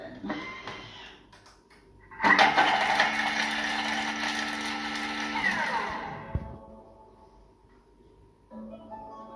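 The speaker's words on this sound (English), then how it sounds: "And we're just going to chop those. So that's just going to be 3 seconds on speed 7" A kitchen machine blitzes garlic cloves and a few sage leaves at speed 7, a loud whirring buzz of blade and motor that runs steadily for a few seconds before stopping.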